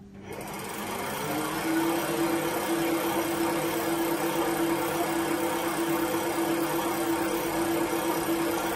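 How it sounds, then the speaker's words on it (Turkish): An electric pedal-assist bicycle rides in first gear at the lowest assist level, its motor giving a close, steady mechanical whirr with a constant whine that builds up in the first second. "Bakalım bisikletimiz birinci viteste kaç kilometre hız yapıyor,"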